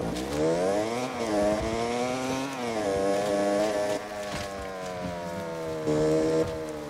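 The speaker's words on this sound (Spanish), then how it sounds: "Escucho una moto" Motorcycle engine in the game Generation Zero, a continuous buzzing drone whose pitch rises and falls as it revs, fairly close and steady, no voices.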